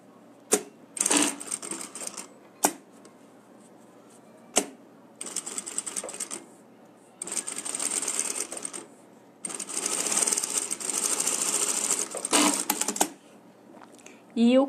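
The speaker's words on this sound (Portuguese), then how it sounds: "Vou costurar o terceiro." A sewing machine stitches a pocket on a handmade wallet in close bursts of rapid mechanical whirring, each run lasting one to three seconds and separated by short pauses and sharp clicks.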